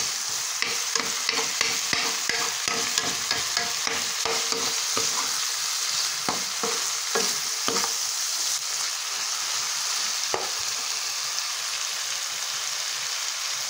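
Corned beef fries in a pan with a steady, bright sizzle. Occasional utensil scrapes sound as it is stirred, close and continuous.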